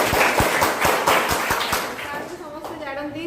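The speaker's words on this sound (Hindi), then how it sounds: "गोटे ताली।" Audience at a high school event in Badgoan claps in a quick, rhythmic, even beat for about two seconds, then the clapping fades as a voice begins speaking.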